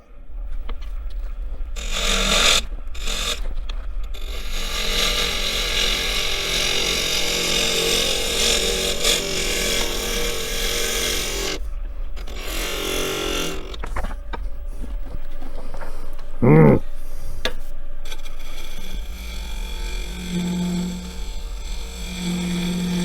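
A Harvey T-40 lathe turning a walnut bowl as the tool cuts the spinning wood, with long rough shearing passes broken by brief pauses and a low motor hum underneath, and no talking.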